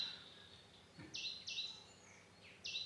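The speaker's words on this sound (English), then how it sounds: "look at this bird" A bird sings outdoors, giving a few short, bright chirps spread across a couple of seconds. The calls are faint and somewhat distant over quiet background noise.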